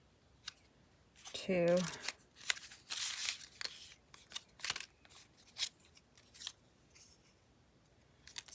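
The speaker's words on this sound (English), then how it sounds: "I could cut it down a little bit more" Scissors snip through paper ephemera in a string of crisp, close cuts with rustling paper, while a voice speaks briefly partway through.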